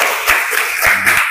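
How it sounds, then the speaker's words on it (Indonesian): Schoolchildren clap in a classroom, a short burst of brisk, close, loud applause. "Terima kasih, tepuk tangan dulu."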